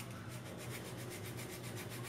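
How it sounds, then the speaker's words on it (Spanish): Hand sanding of a wooden piece, with regular back-and-forth rasping strokes of sandpaper over wood, close and steady through the whole stretch, no voices. "Que ya hemos lijado toda la pieza"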